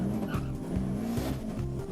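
A DSM car held on two-step launch control against a staging brake, its engine bouncing off the limiter in a steady rapid stutter with crackling pops, loud and close throughout.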